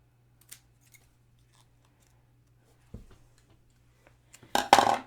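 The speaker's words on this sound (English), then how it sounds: "I just cut up the center and then cut from each corner." Scissors cut patterned paper to notch a banner: a few faint, isolated snips and clicks, then a louder burst of close cutting at the end.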